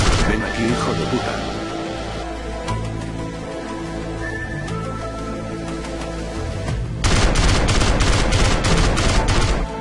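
Video game gunfire in a dubbed Grand Theft Auto parody, sustained rapid bursts of shots under background game noise, growing denser and louder toward the end, with Loquendo text-to-speech voices speaking in between.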